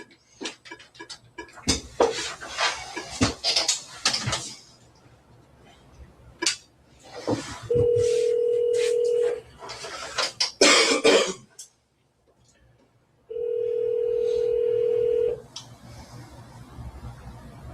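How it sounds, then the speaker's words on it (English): Touch-tone telephone keypad dialing a number, with a few short clicks followed by two long steady dial tones, heard up close amid brief background movement and a cough. "All right, now just dial the number."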